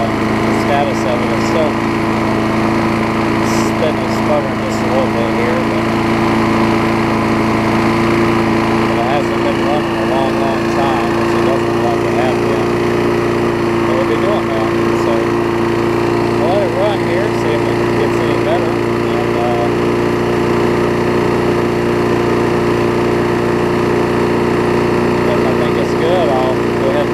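A push mower engine runs steadily and loud at close range, with a droning hum and a faint sputter now and then, while a person talks over it throughout.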